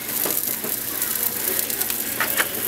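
Butter, about two or three tablespoons, sizzling steadily in a hot pan over a stove burner while a surf and turf dinner is cooked, with a continuous crackling hiss and a few sharper pops near the end.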